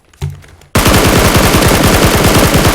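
Automatic gunfire in the shooter game PUBG: Battlegrounds, a loud, sustained rapid burst of shots that bursts in abruptly after a brief softer noise.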